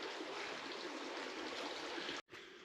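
A creek on public land flows steadily with a broad, close rushing and trickling wash of water that cuts off briefly near the end.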